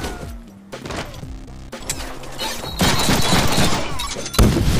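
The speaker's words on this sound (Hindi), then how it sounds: "बुलेट भी फायर हो रही है।" Gunfire in the Deadpool video game comes as loud bursts of rapid shots mixed with booms, crashes and dense game effects, the clatter building toward the end with a sharp blast near the close.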